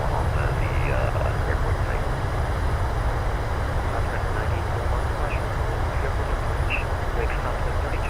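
Boeing 737-800 in a flight simulator game landing with thrust reversers deployed: a steady, loud broadband engine roar with low rumble that holds constant throughout, with a voice talking over it.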